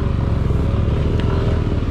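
Automatic scooter motorcycle climbing a steep, rough trail, its engine a loud, close, throbbing drone with a rapid low pulse and faint clatter, sustained throughout.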